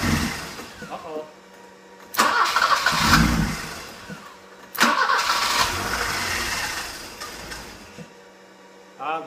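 A starter motor on an old, dirty BMW E30 cranks the engine in two loud bursts close by, with some engine roar, while people talk around the car between attempts.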